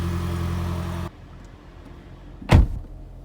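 A car engine idles with a low, steady hum for about a second, then cuts out, leaving quiet background. A single sharp thump follows, and no one speaks.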